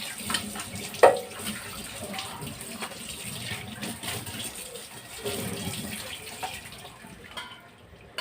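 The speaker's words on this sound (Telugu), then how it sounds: "మనం పోసిన వాటర్ మరగనిద్దాం" Water in a pot for prawn curry churns and bubbles in a steady, moderately loud wash, with a brief clatter near the start before it fades slightly at the end.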